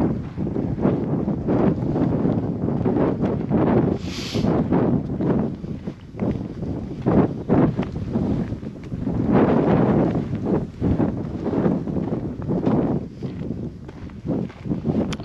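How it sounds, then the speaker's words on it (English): Strong wind buffets the microphone in continuous gusting rumbles, loud and close, with no one speaking, in the Salt Creek Wilderness near Roswell, New Mexico. "It's windy."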